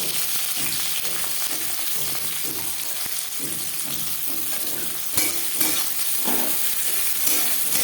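Chopped onion and green chilli fry in refined oil in a pan, a dense continuous sizzle close by with soft stirring scrapes, growing a little busier toward the end.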